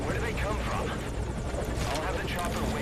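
A helicopter in the video game Metal Gear Solid V: Ground Zeroes gives a loud, constant rotor roar and engine drone that fills the whole stretch without a break.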